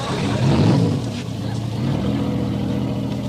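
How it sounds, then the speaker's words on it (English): A military patrol torpedo boat's engine catches and settles into a steady, loud low roar with broadband rumble, a swell of power near the start easing into a constant drone. "start your engine."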